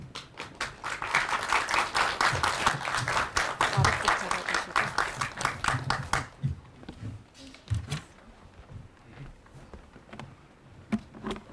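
Indoor audience at a project presentation event breaks into a burst of dense clapping for several seconds, then thins to scattered claps and quiet room noise.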